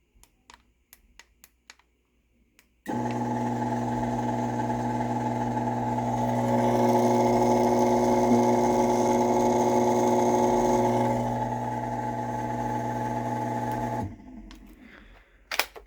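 Genie CM7600IC/A garage door opener running the door down after a keypad press: a few faint beeps and clicks, then a steady mechanical motor hum and drive whine for about eleven seconds that stops abruptly, followed by clicks.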